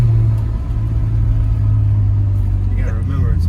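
Loud, steady exhaust drone from an Acura NSX set to sport mode, a deep low rumble holding throughout, with voices talking over it near the end.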